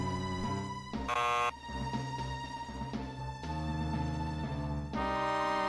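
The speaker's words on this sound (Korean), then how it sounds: "왜자꾸삐삐거립니까" Repeated electronic beeping in Super Mario Maker, with bright tonal bursts over continuous game music, a couple of sharp buzzy blips standing out clearly and loudly, no voices heard.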